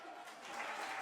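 Kindergarten children clap their hands on a TV programme, a short, soft burst of scattered applause heard at a distance.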